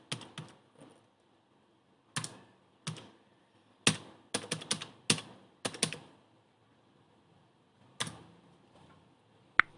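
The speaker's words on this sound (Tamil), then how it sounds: "அகைன் நான் வந்து அந்த கமாண்டை டைப் பண்ணுறேன்" Keys on a computer keyboard clack in short close-up bursts and single taps as a command is typed into a Windows registry editor, with quiet pauses between flurries and no talking.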